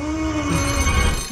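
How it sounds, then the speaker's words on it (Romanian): A telephone rings at a noisy family reunion, a short electronic ringing tone held steadily above a low background rumble, with no talk. "Oh, cât mă bucur să aud un telefon."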